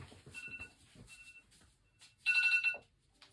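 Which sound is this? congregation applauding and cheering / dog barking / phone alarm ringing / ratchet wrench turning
phone alarm ringing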